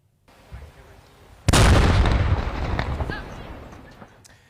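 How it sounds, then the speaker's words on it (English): A 250-kilo Second World War bomb detonated in Plymouth: after a quiet low rumble, a sudden loud blast erupts, followed by a long rolling roar and debris noise that slowly fades over several seconds. "after nearly 3 days of havoc caused by the discovery of a 250-kilo Second World War bomb in Plymouth, this was the moment it was detonated earlier today"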